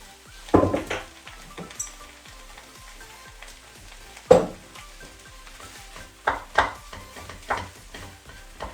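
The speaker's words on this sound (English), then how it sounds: "And here I'm going to add 1 tablespoon Chinese cooking wine." Chinese cooking wine hits a hot pan with fried rice, and a faint sizzle runs beneath sharp clanks and scrapes of a utensil stirring against the pan at irregular intervals.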